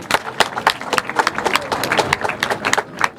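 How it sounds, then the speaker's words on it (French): Applause from an audience at an institute inauguration ceremony in Senegal, a fairly close, irregular patter of individual claps lasting a few seconds. "je vous demande de les applaudir très fort"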